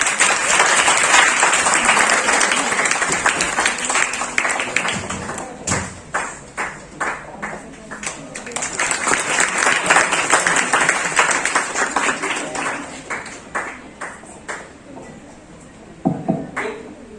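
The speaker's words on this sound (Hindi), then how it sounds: "तालियां रुकनी नहीं चाहिए।" An audience at an International Women's Day celebration at a government polytechnic in Patna applauds loudly and at length. Dense clapping fills the room, thins into scattered separate claps midway, swells again, then dies to a few last claps.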